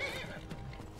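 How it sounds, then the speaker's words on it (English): Horse in the video game Skyrim gives a short, quavering whinny over a soft hoof clatter, faint and brief. "Didn't mean to hit the horse!"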